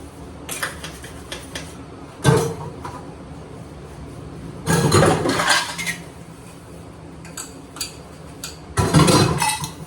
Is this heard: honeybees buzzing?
no